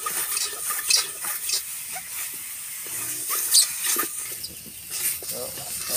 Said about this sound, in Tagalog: Irarabuhin natin sa ating kawali.